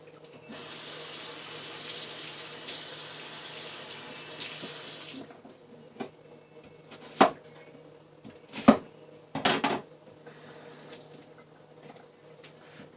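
A kitchen tap runs steadily for about five seconds, then shuts off, followed by a few scattered knocks and clatters nearby.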